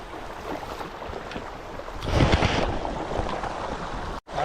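A freshwater rainwater stream flows in Dubai as someone lies in the current, making a steady close rushing wash that swells louder partway through and briefly drops out near the end, with no talking.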